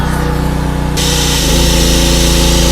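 A 2-in-1 generator with built-in welding machine running on 220 volts, giving a loud, continuous close-up engine drone with a steady hum that shifts slightly in pitch partway through.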